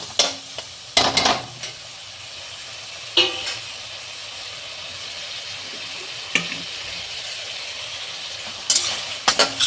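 Fish fat sizzles steadily in hot oil in a pan, a continuous frying hiss broken by a few sharp clinks and scrapes of a utensil against the pan, with no talking.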